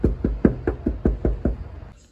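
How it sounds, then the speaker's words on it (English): Knocking on a door: a steady run of about nine firm, evenly spaced raps, close and loud, ending in a brief quiet moment. "Alright, this is the third door. Alright, do I knock?"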